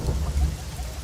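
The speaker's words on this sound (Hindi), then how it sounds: "ओह, ये तो बारिश हो रही है।" Steady heavy rain at night with a low, continuous rumble of thunder underneath, filling the whole moment with no voices.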